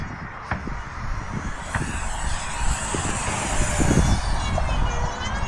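A Freewing F9F Panther RC jet with a 64mm electric ducted fan on 4S power flies at full throttle, its steady rushing whine holding strong and rising slightly as it passes, with outdoor wind noise and some handling bumps.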